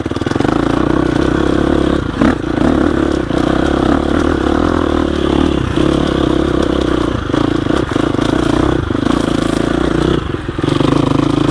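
A 2021 GasGas EX 350F dirt bike engine runs steadily at idle while moving with no clutch, its close, loud mechanical drone continuous throughout, with faint clattering on top.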